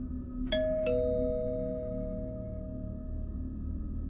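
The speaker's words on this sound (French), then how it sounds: "le son de la sonnette." Two-tone ding-dong doorbell chime at night in a home, two bright strikes in quick succession whose tones ring on and slowly decay over a steady low background hum.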